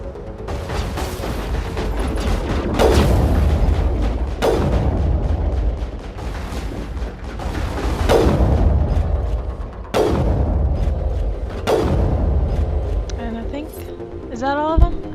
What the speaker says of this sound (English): Let's switch to my sniper rifle.